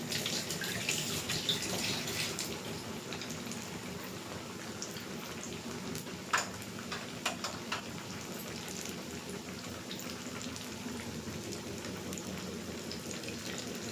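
Rice-flour garelu frying in hot oil make a continuous crackling sizzle with scattered pops, moderately loud and close, with no speech.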